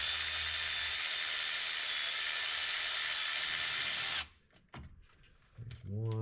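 A power tool runs continuously on the timing chain tensioner bolts of a Ford F150 5.0 V8, a loud steady whir that stops abruptly, followed by brief clanks, handling sounds and a voice.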